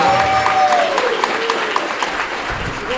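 Audience applause for a band at a celebrity roast, a dense burst of clapping that rises and then slowly thins out, with a voice speaking over it.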